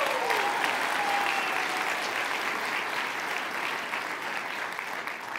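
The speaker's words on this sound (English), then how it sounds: "So y'all give a big hand clap to all the people who made this all possible." Sustained applause from an audience of several hundred at a military leadership event, steady dense clapping filling the whole stretch at moderate level with no talk over it.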